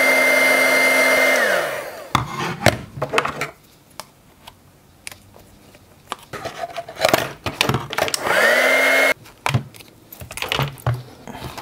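Heat gun blowing steadily on tough dollar-store plastic, a whining fan hiss that runs, switches off with a falling pitch, then returns, with clatter and handling knocks in the quieter middle stretch; no talk.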